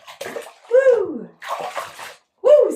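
Bath water sloshes and splashes in a tub as a pet moves about, heard close, with a voice making high, drawn-out sounds in short bursts over the water.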